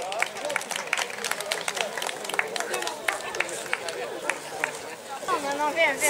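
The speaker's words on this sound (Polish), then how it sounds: "Wielkie brawa" Applause for prize winners at an outdoor horse-riding picnic at an agricultural school: a steady patter of many hands clapping, moderately close, with voices and crowd chatter running underneath.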